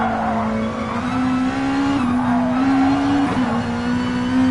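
Race car engine at close range under continuous load as the car brakes hard into a hairpin at Seaside, then accelerates flat out, the steady engine note dipping and rising again, with no talk.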